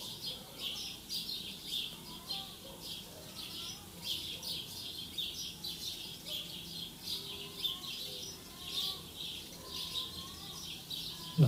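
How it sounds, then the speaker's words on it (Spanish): Birds sing at sunrise in a steady, lively chorus of repeated chirps and whistles, moderately distant, with a faint low background hum. "Los pájaros cantan con todas sus ganas."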